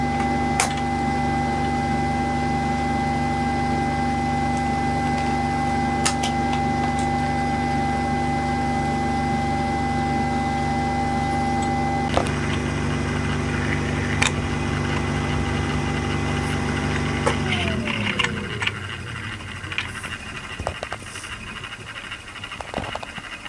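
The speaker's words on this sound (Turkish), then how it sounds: "Motorumuzu çalıştıralım." A small electric motor drives the turner of a homemade egg incubator, humming steadily and fairly loud for most of the stretch, then winding down and changing pitch near the end as it shifts.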